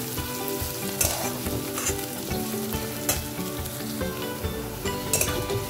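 Garlic paste frying in a pan for a Bengali tangra fish curry, a steady loud sizzle with stirring scrapes and occasional soft clinks, no talking.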